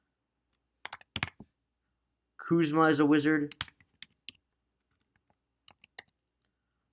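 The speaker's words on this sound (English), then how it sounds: "I don't know why I'm typing in the full thing" Sparse bursts of keyboard typing click in short clusters, interrupted by a person briefly speaking, then a few more keystrokes tap out near the end.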